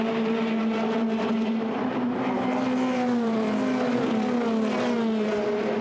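Formula Renault 2.0 race cars at Monza scream past in a sustained, loud high-pitched engine whine that holds steady with slight pitch drifts, with no talk heard.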